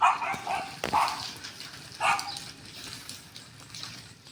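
Dogs bark in short bursts, a couple of sharp yelps standing out over softer, scattered barking at moderate distance.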